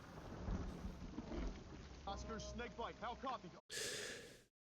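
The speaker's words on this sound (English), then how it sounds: "there's heavy rain, you can hear that when the opening credits starts, we get the flashes of thunder and lightning, you can hear the rain" Heavy rain pours steadily beneath a film's opening credits while low rumbles of thunder roll in, with music and a voice layered over the storm and a sudden brief cut to silence before a loud burst resumes.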